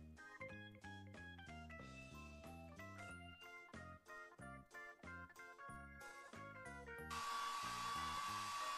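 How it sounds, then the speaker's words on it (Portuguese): In a Paw Patrol video game, a hair dryer blows on a puppy's fur, a steady whooshing hiss that starts near the end over a bright, plinking game tune. "clique no secador de cabelo para secar o pelo do filhote."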